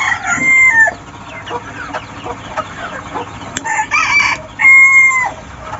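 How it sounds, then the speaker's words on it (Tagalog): Several Labuyo roosters crow loudly nearby in overlapping calls, with hens clucking and chattering in between. "Bali 5 inahin po ang kanyang kinuha at 3 tandang."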